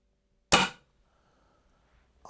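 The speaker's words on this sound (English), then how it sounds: "When I fire it next time, look at the gun and see how much it kicks back when I pull the trigger." A Walther LGU air rifle fires once with a sharp, loud crack that decays quickly, followed by near silence and the onset of another sharp sound at the very end.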